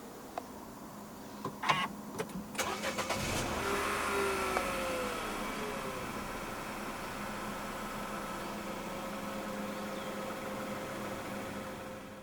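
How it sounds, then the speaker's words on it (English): A 2021 Nissan Almera 1.0 turbo started with the push button, with some brief clicks and a short crank before the engine catches and settles into a steady, even idle that continues to the end. "So to start the Almera, make sure the key fob is inside the car."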